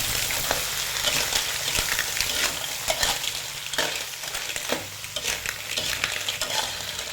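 Fresh clams are stir-fried with roasted chili paste and garlic in a hot pan, making a continuous loud sizzle with rhythmic scraping and tossing strokes throughout, with no voices.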